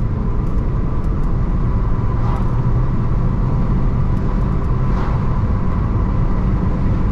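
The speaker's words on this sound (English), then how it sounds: "Give it a bit of a rev just to see how it goes." Steady, loud engine drone from a Rover 25 1.4 car on the move, a constant rumble running the whole time with no clear rise or fall in pitch and no voices.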